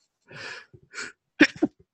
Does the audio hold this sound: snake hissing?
no